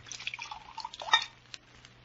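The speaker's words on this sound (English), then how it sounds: "Here, let me pour you both some wine." Wine poured from a decanter into glasses indoors, a short trickling splash with a faint clink near the middle, fairly quiet and close, with no talk over it.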